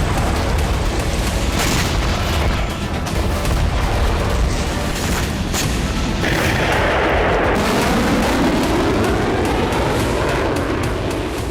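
Russian army artillery shelling in Ukraine, heard as a dense, continuous roar of booms and rumbling blasts, loud and sustained throughout with no voices.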